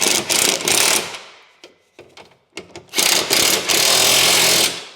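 A power tool drives down the bolts on a new exhaust clamp of a VW Passat R36 in loud, close bursts: a long run, two short stabs, then another sustained whir, with quiet gaps between.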